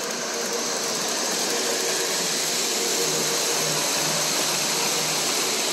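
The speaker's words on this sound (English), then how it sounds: "Even as a model engine, they run fast." A model E9 passenger locomotive runs fast along the track, giving a steady, dense whirring and rumbling hum that holds at an even loudness throughout with no pauses.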